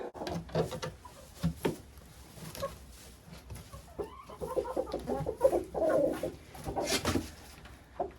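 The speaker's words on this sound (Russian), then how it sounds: "Петух повел курицу нестись в гнездо." A rooster and hens cluck and call softly inside a clean chicken coop, with intermittent clucks and short bursts of activity, fairly quiet and close.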